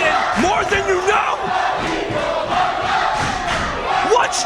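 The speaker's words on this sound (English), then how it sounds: "Listen to the crowd." Wrestling arena crowd at an Ace Overdrive show roaring and chanting continuously, a loud dense wall of voices with rising shouts and cheers throughout.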